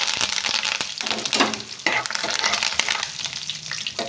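Curry leaves dropped into hot oil for a tempering sizzle loudly, with crackling bursts and spatter over a steady hiss plus a few stirring scrapes, close up and without voices.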